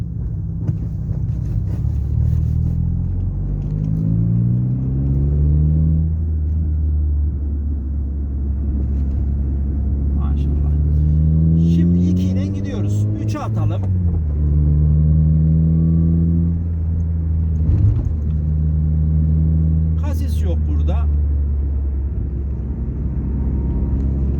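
A car in second gear during a driving lesson, the engine droning steadily with light throttle and pitch rising and falling through gentle speed changes, a continuous close rumble with no speech over it.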